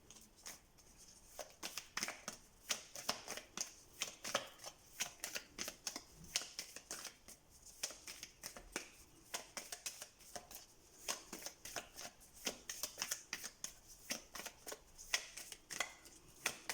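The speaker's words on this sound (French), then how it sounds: "Je vais sortir toutes les cartes, ensuite on va voir" Tarot cards being shuffled by hand, a steady run of crisp riffling and flicking bursts repeating across the whole stretch, close and fairly quiet with no talking.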